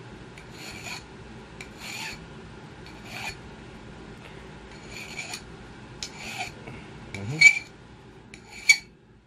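A hand file rasps across the end of a Kronomag barrel in a workshop, squaring it off with a series of short, evenly spaced scraping strokes, fairly close and moderately loud, with a couple of sharper metallic clinks near the end.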